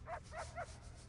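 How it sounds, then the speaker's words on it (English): A dog in the prison-building video game Prison Architect lets out three quick, faint yipping barks in a row over a steady low background hum. "Oh, good little puppy."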